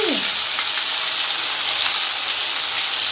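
Ginger and onion paste fries with steady, dense sizzling in hot oil, loud and close, with a brief spattering crackle at the start and occasional stirring scrapes.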